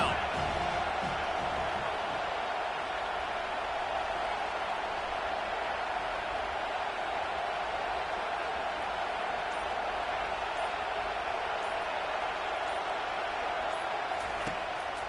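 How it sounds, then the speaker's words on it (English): At a Penn State vs Nebraska college football game, a stadium crowd roars on third down, a dense, loud, sustained wall of noise that holds steady throughout. "Decibels rising as the crowd gets behind this defense on 3rd down."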